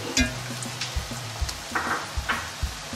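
A tablespoon of ground fennel sizzles in a hot pan while making beef roast: a steady, close frying hiss with a few soft clicks of a spoon, and no voices.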